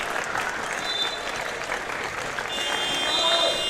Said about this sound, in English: They receive a round of applause from their fellow students and supporters